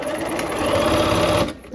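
A sewing machine runs steadily, stitching a quilt seam through several layers of fabric pieces, a loud continuous whirring hum that stops abruptly near the end.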